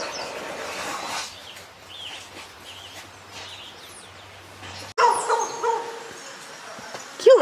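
Puppies on a trail, heard as short yips and barks scattered through outdoor ambience, with a louder burst of sharp, high yelps near the end.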